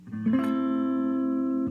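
A single guitar barre chord is strummed once and left to ring out steadily, close and clear, with no talk over it, as played in a guitar lesson.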